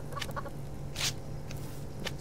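Chickens in the survival game Subsistence give a few short, scattered clucks and squawks, one slightly louder burst near the middle, over a quiet low background hum.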